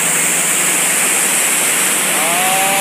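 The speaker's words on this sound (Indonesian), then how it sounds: "air terjun Pulang Maya, Desa Pulang Maya" Mulang Maya waterfall in tropical rainforest roars as a loud, unbroken wash of rushing water, with a faint tonal whine appearing near the end.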